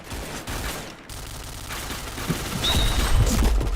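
Rapid gunfire bursts from a shooter video game, loud and dense with overlapping shots and booms building toward the end.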